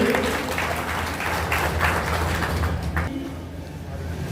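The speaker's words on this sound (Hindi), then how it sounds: "जोरदार तालियों से" Loud, dense applause from a crowd welcoming a state minister at a public gathering in Raebareli, sustained throughout with voices mixed in.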